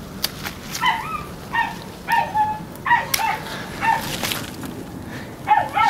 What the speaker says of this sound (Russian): Долбаная собака постоянно гавкает